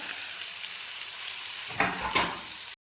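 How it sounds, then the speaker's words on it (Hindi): Potatoes fried with turmeric and red chilli in a pan give a close, steady sizzle, and two brief bursts of louder crackling mark spinach hitting the hot oil near the end. "आलू तल चुका है तो अब मैं डालूँगी पालक।"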